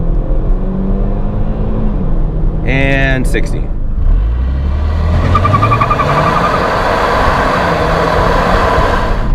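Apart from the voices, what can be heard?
base model Kia Stinger launch acceleration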